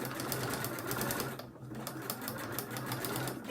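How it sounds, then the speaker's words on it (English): A sewing machine runs steadily while stitching paper-pieced patchwork, its needle rattling in a fast even rhythm with one brief pause midway, fairly quiet and close. "needle in, no back stitching as I said before, straight over the line."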